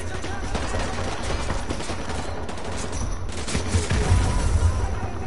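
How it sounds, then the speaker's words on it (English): Sustained enemy gunfire in Call of Duty Modern Warfare 2 Campaign Remastered, a dense, continuous fusillade of rapid shots with heavy low thumps, growing louder and more intense toward the end, with no talk over it. "Where on earth are they shooting from?"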